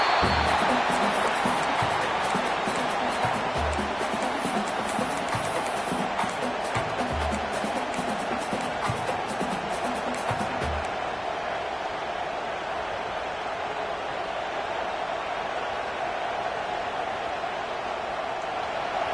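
Stadium crowd in an NCAA Football 26 game, a dense, steady wash of roaring noise, louder at first with rhythmic thumps under it, then settling into a constant, slightly quieter hum.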